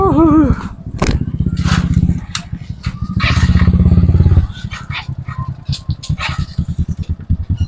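Yamaha Mio M3 125 motorcycle with a towid chassis and racing setup, its engine running close by in bursts and rhythmic pulses, with people talking over it.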